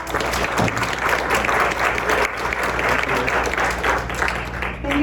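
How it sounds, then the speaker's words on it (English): Audience at a seminar gives the panel a round of applause, dense steady clapping lasting several seconds, close and loud, with a few voices mixed in. "Let's give a round of applause for our panel."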